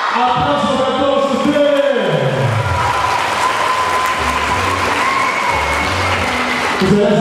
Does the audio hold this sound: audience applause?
yes